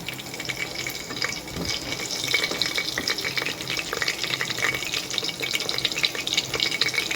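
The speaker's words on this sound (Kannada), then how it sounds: "ಅದು ಗ್ರೀನ್ ಚಿಲ್ಲಿ ಎಲ್ಲ ಸ್ವಲ್ಪ ಫ್ರೈ ಆಗಲಿ." Green chillies frying in hot oil in a pressure cooker with whole spices, a steady close crackling sizzle running throughout.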